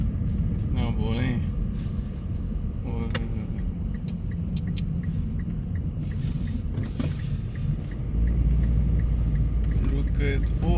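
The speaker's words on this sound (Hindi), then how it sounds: "फुल स्लिप हो रही है गाड़ी जी" A car engine rumbles steadily as the vehicle slips and slides on a snow-covered road in Regina during a winter snowstorm, a loud continuous low drone with occasional scrapes and knocks, under talking voices.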